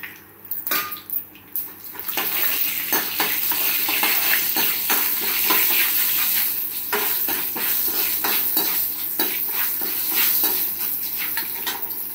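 Mustard seeds and cumin sizzling in hot oil for tempering while making gongura chutney: a loud, steady crackling hiss close by, with spattering pops and a few utensil clinks at the start, and no voices.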